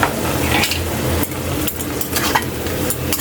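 Filipino pork binagoongan in a pan: a spoon stirs in liquid seasoning amid a loud, close sizzle, with occasional scraping clinks against the pan.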